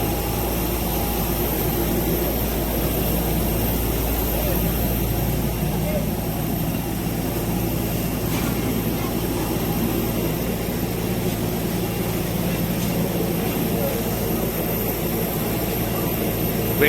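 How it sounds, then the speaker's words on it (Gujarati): A large passenger jet sits at the airport in Mumbai just after landing, its engines giving off a loud, steady, close-up roar with a constant low rumble and hiss throughout. "અમે ઉતરી ગયા છીએ અને પાછળ બરાબર પ્લેન કેવડું મોટું છે"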